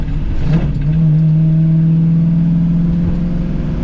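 A 1978 Pontiac Trans Am from a Roadster Shop build revs while driving, its engine holding a loud, steady mid-pitched drone after a brief blip, close and continuous with no talk.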